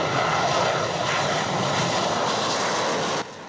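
IDF fighter jets take off from an air base during a dawn emergency scramble drill, a loud, steady roar of jet engines that holds for about three seconds and then drops suddenly in level.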